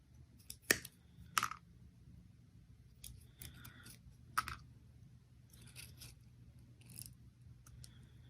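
Sharp scissors snip through paper while trimming a winterberry paper flower, making a handful of crisp, quiet cuts at uneven intervals with small rustles between them.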